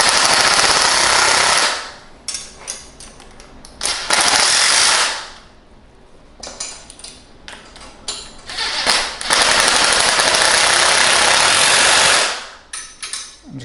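A 13mm power drill tightens bolts on a Pride Mobility ZT10 mobility scooter motor, loud bursts of whirring and rattling impact alternating with quieter pauses, four or five runs in succession.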